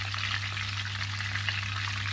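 Steady sizzling and crackling of stuffed mackerel frying in a hot pan, continuous and close, with a low constant hum underneath.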